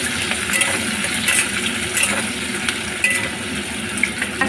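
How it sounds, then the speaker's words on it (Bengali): Chopped onions frying in a kadai with garlic for a Bengali mutton curry, a loud continuous sizzle with scattered clinks and scrapes of stirring. "পেঁয়াজটা কড়াইয়ে ভাজা হচ্ছে"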